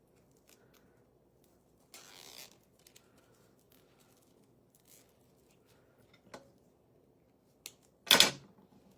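A zip tie cinched tight around a folded wreath petal gives a single loud, quick ratcheting zip near the end, close by, following a few faint rustles and a brief crinkle of handling earlier in the quiet.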